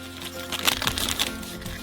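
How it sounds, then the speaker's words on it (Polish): Crinkly crackling of butter wrapping being peeled open beside a cooking fire, a few close, sharp rustles over a steady low background hum. "Rozpakowujemy masło"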